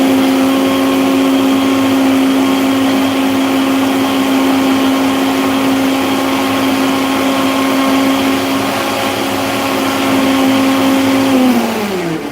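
A kitchen mixer grinder whirs steadily at high speed while grinding chutney, a loud even motor whine that holds for several seconds and then winds down at the end.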